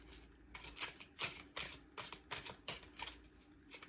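Tarot cards shuffled in a quick run of crisp, papery riffles and slaps, about a dozen bursts at a steady rhythm, close and fairly quiet over a faint low hum.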